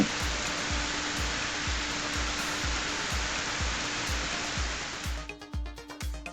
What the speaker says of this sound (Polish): ale najpierw wezmę prysznic